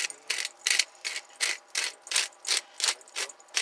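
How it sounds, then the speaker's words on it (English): A hand pepper grinder set to a medium grind cracks peppercorns close by in a steady run of about eleven rasping, ratcheting turns, each a short gritty burst, with no talking. "you want your pepper grinder on medium so you get some nice good chunks of pepper in there"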